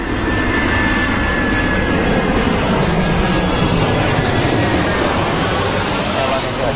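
A jet airliner roars steadily and loudly at London Heathrow airport, a continuous broadband engine rumble that stays constant throughout, with faint talk mixed beneath it.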